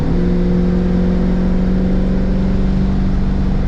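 A 1960s Ford Mustang engine drones at high revs in fourth gear at highway speed, a loud, steady, sustained hum with no talking.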